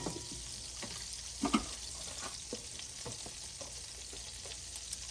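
Butter sizzles on medium heat in a pan for a creamy chicken parmesan alfredo bake, a soft steady crackle with a few scrapes and clinks, one louder burst near the middle.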